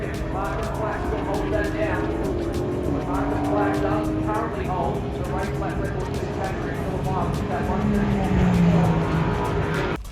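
Ford Mustang GT4 race cars roar along the pit straight of a race track, a loud sustained engine drone with rising and falling pitch as cars pass. A person talks over the noise.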